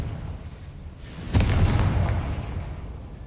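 Confringo blasting spell explosion in the video game Hogwarts Legacy, a single booming burst that erupts suddenly and rumbles away over a low background.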